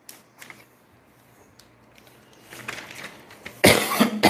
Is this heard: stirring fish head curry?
no